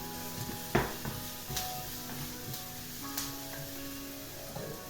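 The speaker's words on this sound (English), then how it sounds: "just basted the onions in the remains of the olive oil" Onions fry in olive oil in a home kitchen, giving a soft, continuous sizzle with occasional clinks of a pan and utensil, fairly quiet and close.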